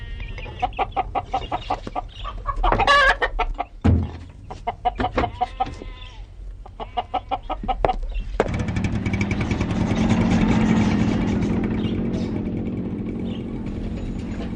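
Farmyard roosters crow in a string of loud, close, strained calls, followed by a steady rumbling noise that swells and lingers.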